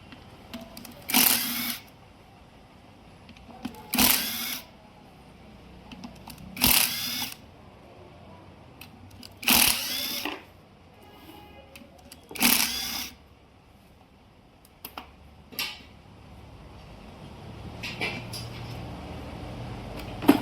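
Bolts of 12 mm size being undone on a Maruti Brezza gearbox during a second-gear brass ring repair, heard as about eight sharp, close ratcheting bursts spaced a couple of seconds apart over quiet workshop background.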